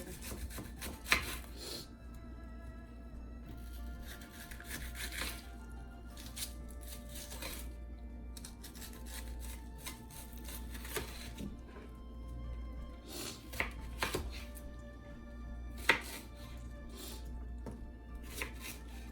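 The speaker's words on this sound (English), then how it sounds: "we're just gonna slice these in circles" A slightly dull knife slices vegetables into rounds on a board, giving soft, irregular cutting strokes with occasional sharper knocks, close and fairly quiet, with no talk.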